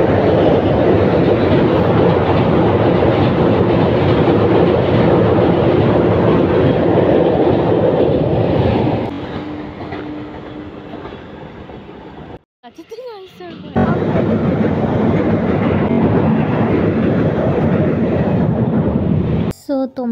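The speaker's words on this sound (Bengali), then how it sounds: "একটা ট্রেন আসছে, ট্রেনটা আসার অপেক্ষায় আছি।" A train passing on railway tracks in fog, heard as a loud, steady rumble that fades, breaks briefly, then returns, with other sounds in the background.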